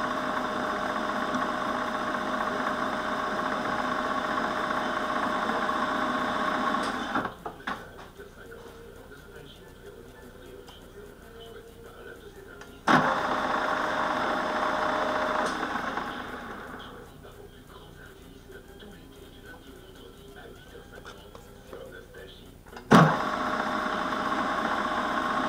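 A milling machine runs at slow speed while cutting a gear-cutter holder, giving a steady mid-level motor hum with faint rhythmic cutting noise. The hum drops away and returns several times with sharp clicks at each change.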